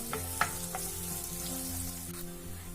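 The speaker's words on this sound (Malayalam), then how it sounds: "ഇനി ഇതെല്ലാം നല്ലപോലെ ഒന്ന് വഴറ്റി കൊടുക്കാം. സവാള ചെറുതായിട്ടൊന്ന് വഴണ്ട് വന്നാൽ മതിയാവും." Sliced onion sautéing in a pan, a steady close sizzle with occasional soft stirring clicks and scrapes throughout, no voices.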